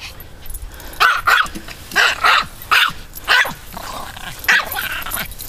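A small dog barks sharply at a switched-off lawn mower, about seven loud, close barks in quick uneven bursts, some in pairs, with short pauses between.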